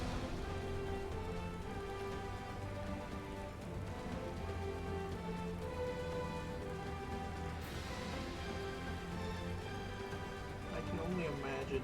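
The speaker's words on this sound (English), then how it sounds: "I can only imagine how this must feel, flying through the rain." Steady rain falls throughout over a dense, layered background with sustained tonal content, as if heard while flying through a downpour, with speech-like sound mixed in.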